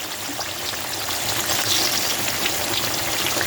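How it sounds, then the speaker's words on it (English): Sweet potato slices sizzle steadily in hot oil, a continuous crackling hiss with small pops. "I think frying potato makes for a sweet delicacy."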